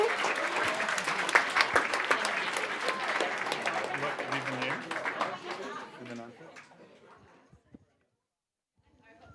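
Loud, dense clapping from a school awards audience honouring primary school teachers, fading out after about six seconds into near silence, with voices heard under the applause.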